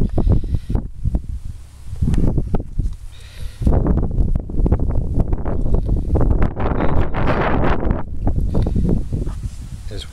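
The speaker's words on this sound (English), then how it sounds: "By the sound of that wind blowing, we're running out of time." Gusty wind blows outdoors, buffeting the microphone in loud, uneven bursts with a short lull before it picks up and holds strong.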